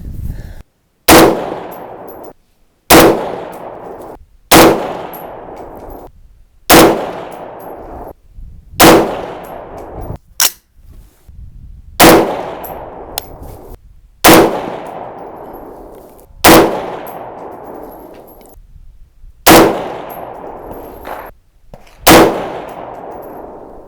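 Eleven 6.5 Grendel rifle shots with Hornady 120gr ELD-M ammunition, each a sharp loud crack with a ringing decay, fired at an even pace about two seconds apart with no talking.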